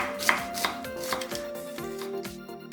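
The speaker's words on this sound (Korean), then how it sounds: "양파 4분의 1개는 살짝 굵게 채 썰고" A knife cuts a quarter onion into thick strips on a board, giving a series of crisp, close chops at an even, moderate pace with no voices, while faint steady tones sit in the background.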